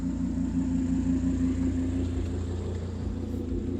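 Deep, steady engine rumble of a 2011 Audi R8 5.2 V10 supercar, heard from inside the cabin as a low continuous drone at moderate level with no talk.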